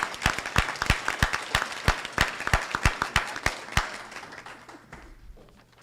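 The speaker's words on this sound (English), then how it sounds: "Everyone, please join me for a round of applause congratulating these two wonderful women." Applause from the audience at a school board meeting, with loud, distinct individual claps spaced apart in an irregular rhythm that thin out and fade over the last couple of seconds.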